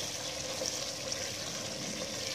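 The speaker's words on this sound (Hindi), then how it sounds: "पानी डाल के, तो जब पानी में उबाल आएगा तो फिर हम मूंगियाँ डाल देंगे" Water pours steadily into a cooking pot while moong dal mangochi curry is being prepared, a continuous soft rushing splash with no talking.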